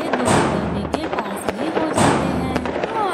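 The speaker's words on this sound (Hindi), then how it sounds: "धीरे धीरे आग पटाखों की थैली में लग जाती है और कई सारे जोरदार धमाके" A bag of firecrackers pops and bangs at Diwali in quick irregular bursts, several sharp cracks among rumbling blasts, with voices heard beneath.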